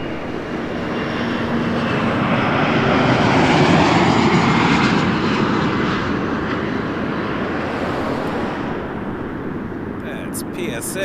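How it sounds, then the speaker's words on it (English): A CRJ900 regional jet operated by PSA Airlines lands on runway 24 left at Toronto Pearson, its loud broadband engine roar swelling through the middle and easing off, with voices talking over it. "RJ 900 from Charlotte coming in next."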